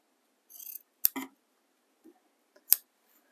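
Sewing scissors snipping through thread or fabric, a few crisp close cuts and clicks separated by short silences in a quiet room.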